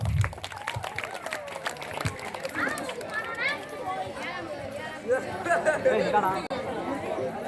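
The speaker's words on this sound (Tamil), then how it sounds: "அனைவரையும் நகைச்சுவை செய்து மகிழ்வித்த 8ஆம் வகுப்பு மாணவனை கைத்தட்டி வாழ்த்துகிறோம்." Crowd applause at a school annual day function, scattered clapping mixed with lively chatter from children and adults, moderately loud and fairly close.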